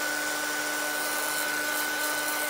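A crafting heat tool blows steadily while drying painted index cards, a constant close hiss-like whir with a faint steady hum, unchanged for the whole stretch and with no talk.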